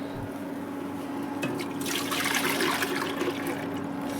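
Milk poured into a pressure cooker for carrot kheer, a liquid stream splashing and gurgling into the metal pot, growing fuller and louder midway over a low steady hum.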